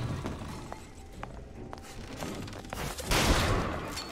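A gunshot blast from BioShock Infinite: Burial at Sea lands near the end as a sudden loud broadband burst over ongoing game ambience, after scattered faint clicks and knocks.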